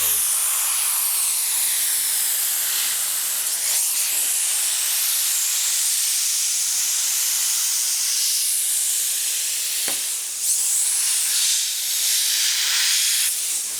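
Vinyl lettering film being peeled off a Porsche 911 GT3 RS, giving a loud, continuous, close tearing hiss that runs almost unbroken, with brief catches and pops along the way.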